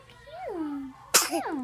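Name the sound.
baby sneezing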